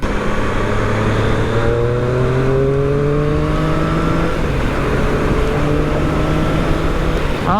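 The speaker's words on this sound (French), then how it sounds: "Ah, ce petit son de moteur là." Triumph Street Triple 660 motorcycle engine on the stock exhaust, a steady close engine drone whose pitch rises smoothly through a gear, drops, then climbs again.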